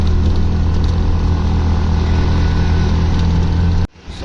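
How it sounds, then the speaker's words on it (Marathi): Auto rickshaw engine droning loud and steady from inside the cabin while riding through Ghatkopar, Mumbai, then cutting off abruptly near the end. "आता रिक्षामध्ये बसलो आहे आणि आता निघालो आम्ही."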